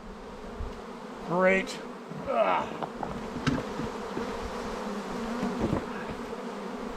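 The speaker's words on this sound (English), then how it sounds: "this is an easy way to get a lot of bees upset" Many agitated honeybees buzz loudly and continuously during a hive inspection at a ranch apiary, with swelling drone bursts near the start and a steady swarm hum throughout, plus a brief spoken word.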